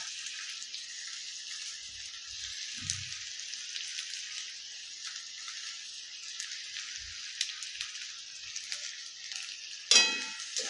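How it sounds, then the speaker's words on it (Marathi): Red chilies broken into onions fry in a pan for a Konkani-style jackfruit bulb vegetable, giving a steady high sizzle throughout, with a few soft low knocks and a brief louder clatter near the end. "आता मिरच्याही कांद्यासोबत अशा फ्राय होतील"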